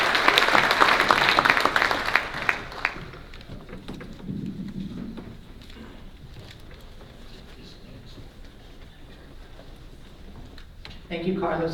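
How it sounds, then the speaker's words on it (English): Applause from an audience at a regional housing needs roundtable, loud and dense over the first few seconds, then thinning to scattered clapping and murmur before a voice begins speaking near the end. "Let's give them a round of applause."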